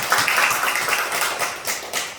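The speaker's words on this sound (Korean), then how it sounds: "저기 격려의 박수 한번 하겠습니다" Church congregation giving encouraging applause to two students after they play during Sunday worship, uneven clapping with distinct sharp claps standing out, rising and dipping in waves and ending with a fresh burst.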